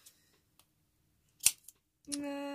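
A pair of scissors from a craft setup is handled with a few light clicks and one sharp snip, followed by a brief bright metallic ringing tone, close and fairly quiet.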